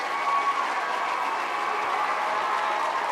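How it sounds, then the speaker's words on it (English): Sustained round of applause at a 2020 art and design college commencement ceremony, an even wash of clapping held at a constant level throughout. "we would love one more round of rousing applause"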